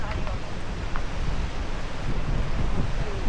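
Sea waves wash along a rocky coastline with wind gusting over the microphone, a fairly faint, continuous broadband rush with no clear voices.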